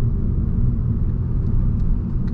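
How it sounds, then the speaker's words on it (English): Ford Focus ST engine pulling hard in second gear from low speed, a steady, loud low-pitched rumble heard from inside the car with no talking. "Let's just do a second gear low speed pull just real quick."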